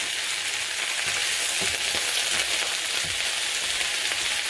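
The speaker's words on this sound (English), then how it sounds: "Okay, so we're sauteing this up." Vegetables sautéing in olive oil in a pan, likely red cabbage, give off a steady, close sizzle and crackle for the whole stretch, with a few soft stirring knocks mixed in.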